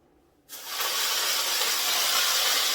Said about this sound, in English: So I'm sauteing my spinach real quick here.